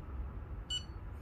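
A timer gives a single short, high electronic beep while an espresso shot starts on a La Pavoni Stradivari lever machine, heard close over a low steady background hum with no talking.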